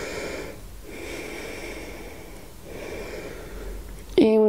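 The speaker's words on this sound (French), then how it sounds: "Et là on reste un petit peu dans la posture, on respire." Slow, steady breaths held in a seated yoga posture for back flexibility, a soft continuous airy rush with two brief pauses, then a sharper, louder sound at the very end.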